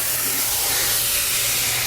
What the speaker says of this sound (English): You just want to add about a tablespoon of water.